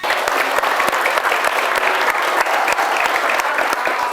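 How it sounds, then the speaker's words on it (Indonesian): A studio audience at a Ramadan religious television program claps in loud, dense, continuous applause throughout, with no pause. "Saya boleh minta tepuk tangannya?"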